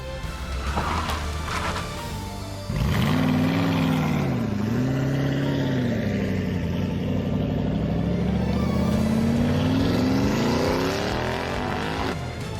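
A car engine revs and pulls away, its pitch sweeping up and down before the sound steadily thins out and fades, loud and alone with no talk.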